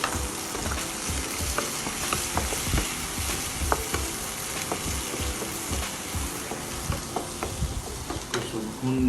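Chopped garlic sautés in a pan with a dense, continuous frying sizzle, punctuated by frequent clicks and scrapes of a utensil stirring, close and steady throughout with no voices.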